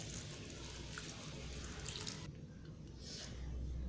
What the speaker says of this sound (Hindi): अब इसमें भी हम पानी ऐड करेंगे और इसका अच्छा सा पेस्ट बना लेंगे